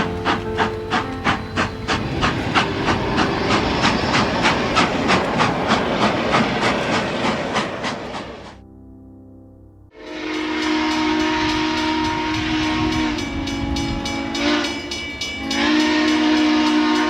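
Southern Pacific 4449 steam locomotive rolling past with rhythmic chuffing and clanking cars, then a long, loud, sustained whistle blast after a brief lull, close and alone without any talk.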